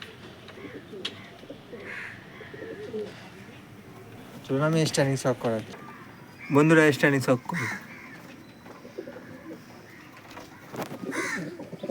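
Racing pigeons in a loft coo with soft, low murmurs throughout, under a voice that speaks in two louder bursts and occasional asides.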